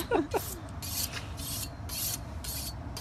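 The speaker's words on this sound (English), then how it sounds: "Jack, our professional chef, is sharpening up his knife to slice it." A professional chef sharpens a knife before slicing smoked tri-tip, giving rhythmic bright rasping strokes, about six passes in three seconds, close and moderately loud, with a brief voice at the start.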